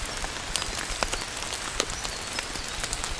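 Steady rain falls on a forest during a backpacking hike in the Great Smoky Mountains, a dense close patter with scattered louder individual drops ticking through it, no voices.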